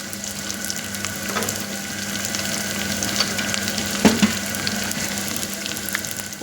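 Onions fry in a pan with a steady, close sizzle, a couple of brief clinks and stirring sounds, no one speaking.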